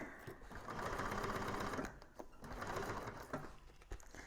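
A sewing machine stitches a convertible bag, its rapid mechanical needle chatter running in two long bursts with a short pause between, close and clear with no talk.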